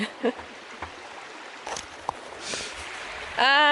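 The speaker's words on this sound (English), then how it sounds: "Nice little trickling stream." A small stream trickles beneath a bridge on the Pacific Crest Trail, a soft, steady watery hiss with a few faint knocks, and a voice briefly speaks at the end.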